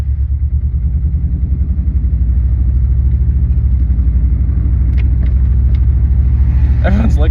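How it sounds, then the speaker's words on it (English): A $500 Subaru with a misfiring cylinder idles roughly up close, a loud lumpy rumble with an uneven, stumbling pulse throughout, while a few brief clicks and a short voice sound come near the end. "Oh, this car sounds so bad."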